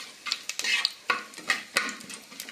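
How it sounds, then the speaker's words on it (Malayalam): Fennel seeds frying in coconut oil with a little ghee, stirred with a utensil that scrapes and clinks against the pan in quick bursts over a steady, close sizzle. "പെരുംജീരകം, ഇത് വറക്കണ വെളിച്ചെണ്ണയിലാണ്."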